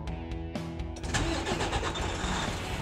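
A truck engine fitted with a DT12 transmission cranks briefly, catches and settles into a steady, loud diesel run, heard up close with no talk over it.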